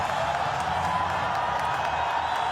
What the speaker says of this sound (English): The crowds enjoyed it.